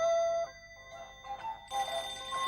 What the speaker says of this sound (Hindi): क्या आप फोन अटेंड करेंगे प्लीज?